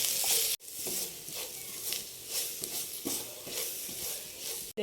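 Chilli powder, black pepper powder and garam masala frying and being stirred in a pan for a soya chunks roast, a close sizzle broken by repeated scraping strokes of a spoon, no talking.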